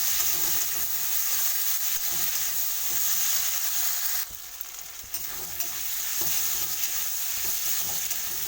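Potato pieces frying in a pan with salt and turmeric, a loud continuous sizzle with stirring scrapes, briefly dipping midway before resuming.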